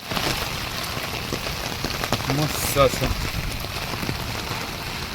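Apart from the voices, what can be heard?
rain falling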